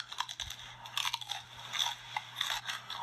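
Crunchy chewing on hard, crisp bugs, a steady run of close crackling bites and grinding mastication with no talk over it.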